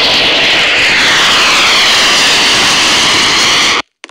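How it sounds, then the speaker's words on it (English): Airplanes roaring overhead in the video game Roblox, a loud, continuous jet-engine drone that fills the clip, then cuts off abruptly near the end. "What is up with all these airplanes?"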